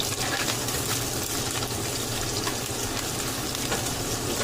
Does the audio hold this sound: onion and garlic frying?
yes